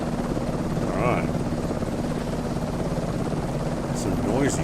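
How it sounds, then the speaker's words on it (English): Helicopter in Microsoft Flight Simulator 2024, a loud continuous rotor and engine drone running throughout, with someone speaking briefly over it. "It's a noisy helicopter"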